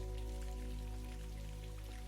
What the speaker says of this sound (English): it's just steady, rhythmic sounds of droplets hitting the pavement below